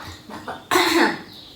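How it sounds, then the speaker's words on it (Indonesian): A single sharp cough bursts out close by, preceded by a couple of short breathy sounds, then trails off. "Sorry batuk."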